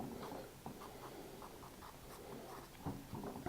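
Math solutions being written by hand on paper: a steady run of soft pen or pencil scratches and taps, close and fairly quiet, with short pauses between strokes and no talking.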